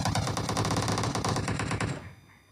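Rapid automatic gunfire in the PUBG Mobile battle royale game, a dense burst of close, loud shots that ends with a short fading tail.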